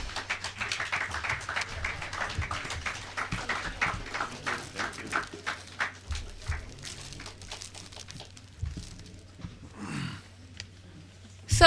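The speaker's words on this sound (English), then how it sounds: "A round of applause, please." Audience at a lecture on foreign direct investment applauding to welcome the speakers, scattered uneven clapping from a modest crowd that thins out and fades before a final burst.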